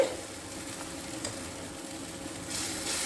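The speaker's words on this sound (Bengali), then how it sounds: "এবার এই জলটা দিয়ে একটু কষবো।" Spices sautéing with a splash of water in a pan for a vegetarian cauliflower curry, giving a steady, moderately quiet sizzle with soft scraping stirs and a brief louder hiss near the end.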